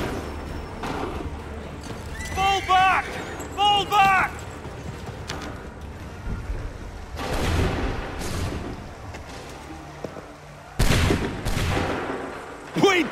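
Musket volleys in Assassin's Creed III, loud scattered cracks and booms mixed with horse whinnies and hoofbeats on a battlefield, with voices shouting in between.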